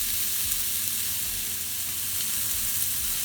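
Indian seekh kebabs seasoned with garam masala fry in a pan, giving a steady, close, crackling sizzle with dense fine hiss that holds evenly throughout, with no voices.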